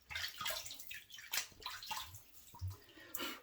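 Water splashes repeatedly at a bathroom sink as hands wet a face, close and irregular, with sloshing bursts and drips between them and no talking.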